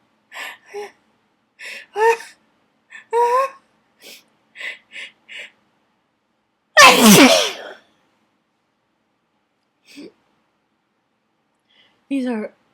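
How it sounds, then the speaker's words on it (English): A person sneezes once with a loud, sharp burst midway, set among scattered short breaths, gasps and brief vocal sounds with long quiet gaps. "I'm gonna sneeze."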